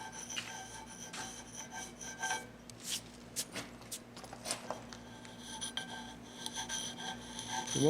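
Straight, sharp steel chisel scraping across a limestone patch, making steady rasping strokes with a few sharper scratches, close and moderately quiet.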